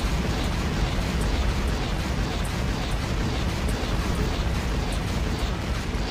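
Grenade explosions in Factorio, dense rumbling blasts packed into a constant loud roar with faint periodic pops on top and no clear talk.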